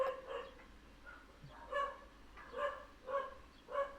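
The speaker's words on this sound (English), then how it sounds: "Ignore the dog." A dog indoors barks faintly in the background, a few short yips and whimpering barks spaced across the moment, distant and quiet, with no talking.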